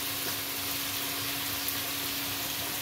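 Cut pumpkin and potato frying with spices for an Assamese duck curry, a soft, even sizzle close by that stays constant throughout with a faint steady hum underneath.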